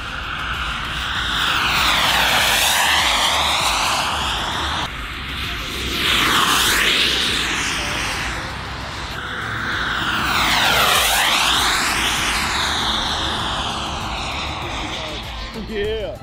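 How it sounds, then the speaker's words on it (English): A turbine jet model aircraft makes high-speed passes, its whine swelling loudly and falling away in sweeping Doppler arcs, with a voice talking over the roar. "That is a full-on turbine jet"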